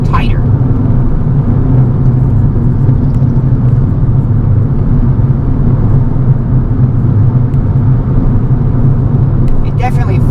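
A modified Fiat 500e electric car is driven through corners, with a steady low road and tyre rumble heard from inside the cabin while a person talks over it.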